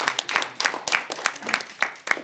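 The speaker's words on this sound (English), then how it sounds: "big round of applause." Toastmasters club audience at a joint meeting in Dubai applauding a speaker, a short burst of scattered hand claps with irregular rhythm from a modest crowd, fairly close.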